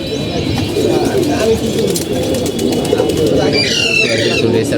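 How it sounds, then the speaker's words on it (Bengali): Game pigeons coo at close range in a home loft, with soft repeated throaty calls, a few chirps and wing or cage rustles mixed in, while people talk nearby. "কবুতর সব কবুতরই পালে মোটামুটি"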